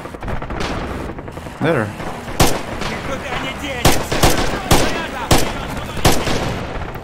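Gunfire in Red Orchestra 2, a World War II shooter: sharp, loud rifle and machine-gun shots cracking at irregular intervals over a constant battlefield din, with a brief spoken word.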